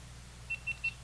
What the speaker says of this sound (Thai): แจ้งเตือนนะครับ เห็นไหมพอเราใส่อุปกรณ์เข้าไปยังนะครับ